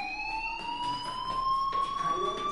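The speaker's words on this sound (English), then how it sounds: "do you hear that fire alarm?" A fire alarm in the video game Life is Strange sounds as a continuous, high electronic whine that rises slowly in pitch over steady background noise.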